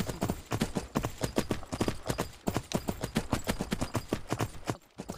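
Steady clip-clop of horse hooves at a brisk, even trot in an Attack on Titan roleplay video game, close and fairly loud, with a short pause near the end.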